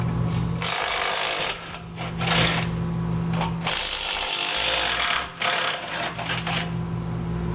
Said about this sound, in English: I'm using an 18mm socket to pull them out